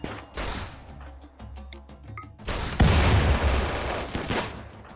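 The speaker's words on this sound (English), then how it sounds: "Quit shooting grenades at me." Grenade blasts and gunfire in the RimWorld video game: several loud explosive bursts and crackling shots, building to a heavy booming barrage in the second half, with no talking.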